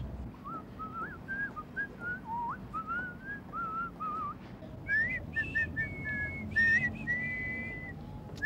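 Someone whistles a melody up close, the tune rising and shifting in pitch over several phrases with little else around it.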